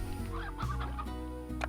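Chickens clucking in the video game Slime Rancher, a few short bursts of nearby clucks over a steady background hum with a faint tonal music bed.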